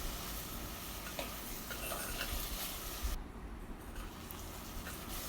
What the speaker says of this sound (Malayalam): നമ്മുടെ തക്കാളി നന്നായിട്ട് വഴറ്റിയെടുക്കാം